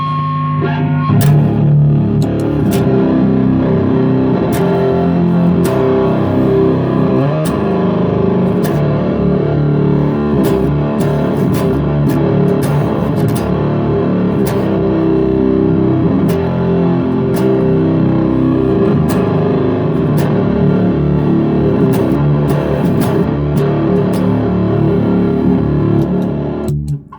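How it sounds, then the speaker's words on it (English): An electric guitar plays a riff through heavy distortion with the bass string muted by the thumb, giving loud, thick, continuous chugging chords with sharp pick attacks in a steady rhythm and no talking. "if I play that with the distortion, this is what it sounds"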